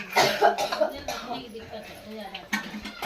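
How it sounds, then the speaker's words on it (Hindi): Several short, close coughs in quick succession with some throat clearing, followed by quieter sounds. "इनकी खांसी सही नहीं हो रही है।"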